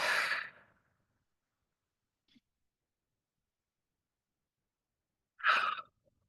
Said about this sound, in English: Taking a couple deep cleansing breaths.